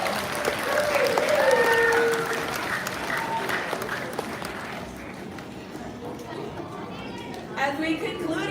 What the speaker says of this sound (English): Let's go ahead and give this handsome bird a big round of applause as well.